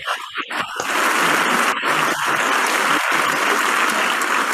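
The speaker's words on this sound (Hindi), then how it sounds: "जितने भी लोग बैठे हैं दिल से ताली बजा सकते हैं" A seated audience breaks into sustained, dense applause at an indoor business event, the clapping loud and steady throughout after a brief ragged start.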